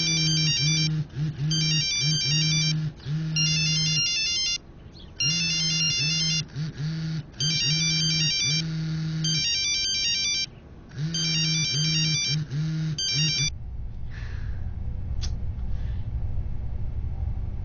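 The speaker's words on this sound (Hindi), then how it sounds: "फोन क्यों नहीं उठा रहा है?" A phone ringtone repeating in regular electronic bursts with short gaps, unanswered for about thirteen seconds, then cut off and followed by a low rumble.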